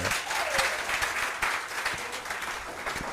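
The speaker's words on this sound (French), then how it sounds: "On applaudit quand même." Audience members at a school quiz match between two lycées applaud after a missed question, a soft, even wash of clapping heard from some distance.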